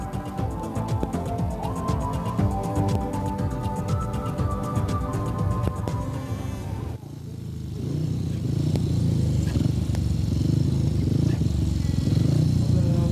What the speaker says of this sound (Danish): Brian og hans mekaniker Alf Busk har arbejdet hele natten på hans motor, og det ser ud til, at den går godt fra start af i hvert fald.